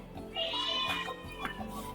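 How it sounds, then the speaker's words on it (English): A cat meows in the video game Astlibra, a single drawn-out tonal call followed by a shorter second mew, clear and fairly close over a low background hum. "Cats."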